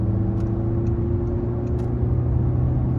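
A 2016 VW Golf 7 with a 1.6 TDI 90 hp diesel accelerates in third gear from about 2500 rpm. It gives a steady, close cabin drone and low rumble with faint clicks and no voices.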